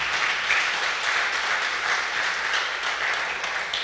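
An audience applauds at the closing of a seminar, a steady dense wash of clapping that carries on evenly throughout, filling the room with no one speaking over it.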